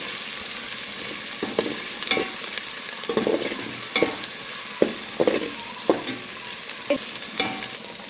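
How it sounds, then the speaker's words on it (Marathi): Finely chopped ginger, garlic and coriander fry in a pan with a low continuous sizzle, while a spoon scrapes and stirs in repeated short strokes, close by and moderately quiet. "आलं लसूण आणि कोथिंबीर हे सगळं बारीक केलेलं टाकणार आहे ते पण आपण भाजून घेऊया चांगलं"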